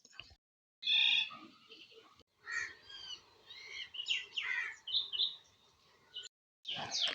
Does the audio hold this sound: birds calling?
yes